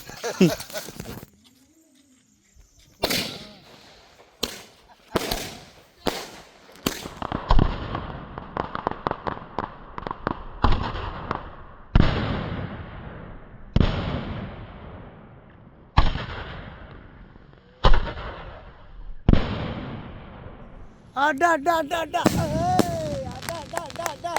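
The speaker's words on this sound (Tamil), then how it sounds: "மயில் ஓடி வைக்கலாம் பதினஞ்சு ஷாட் அடிக்கும் மேலே போனோம்னா கலர் கலராக வரும்" Fifteen-shot fireworks burst in a long series of loud, sharp bangs spaced a second or two apart, ending in a rapid crackling flurry with faint whistles.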